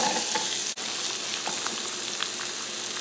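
Onions and garlic fry in olive oil with a loud, dense, unbroken sizzle lasting throughout, close up, with one brief dropout and faint crackles on top, no speech.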